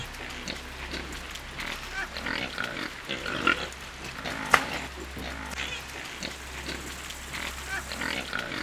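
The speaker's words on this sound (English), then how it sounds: "Every morning the shaman began his day by feeding the pigs with fresh sagu." Several pigs grunt and snuffle up close while being fed sago, with irregular low grunts and occasional sharper squeals over a constant low hum.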